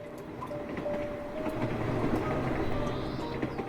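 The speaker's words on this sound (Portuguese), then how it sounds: "Dentro de um trem que atravessava a noite em silêncio" A train rolls along the rails at night with a steady, rumbling drone and faint rhythmic clicks, heard from inside the carriage, continuous and moderately loud with no voices.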